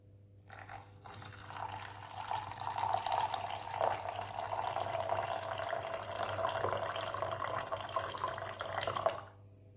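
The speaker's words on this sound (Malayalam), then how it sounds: "നമുക്ക് ഈ ചായ ഇതിലേക്ക് ഒഴിച്ചു കൊടുക്കാം." Tea poured steadily into a cup already holding two teaspoons of sugar, a continuous close liquid stream with a gurgling trickle that runs for several seconds before stopping.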